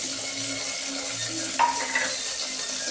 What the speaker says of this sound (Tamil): கடுகு நல்லா பொரிஞ்சதும் நம்ம வெங்காயத்தை போடுறோம் தாளிக்கு.